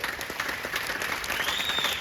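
A hall audience at a direct-selling motivational talk claps together to welcome new attendees, a dense, steady burst of applause lasting a couple of seconds with no voices over it.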